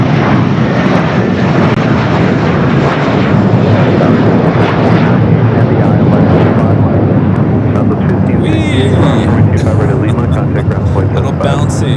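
Jet airliner of Flight 742 roaring at LAX, a loud broad engine rush holding steady for the whole stretch, with voices heard faintly over it.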